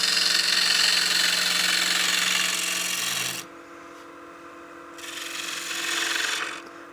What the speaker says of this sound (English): Use that smaller gouge, take smaller cuts.